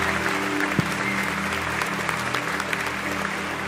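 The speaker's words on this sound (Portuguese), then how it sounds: "Aplauda o Senhor bem forte." Church congregation clapping for the Lord in a worship service, a steady, dense wash of applause with a low musical hum beneath and faint voices.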